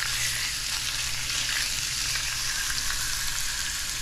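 Hogfish fillet sizzling in a hot pan, a steady dense crackle of frying oil heard up close and unbroken, with no one talking.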